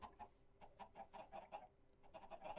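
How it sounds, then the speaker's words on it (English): Chickens cluck repeatedly in a Minecraft village, short clipped calls coming in a busy irregular stream at moderate volume with no talking. "Whereabouts are the chickens?"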